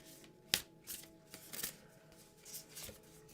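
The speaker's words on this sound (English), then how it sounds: "I'm going to get a couple of oracle cards here." Oracle cards being shuffled by hand: a sharp riffle at the start, then softer papery slides and flicks, close up and quiet, with no voices.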